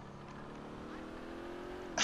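Steady car engine drone while driving in GTA IV, a sustained mid-level hum with harmonic tones, constant throughout and ending in a brief louder burst.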